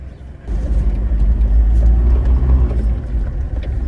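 A car on a road trip toward Koregaon rumbles close by with a steady low engine and road drone after a brief quieter start.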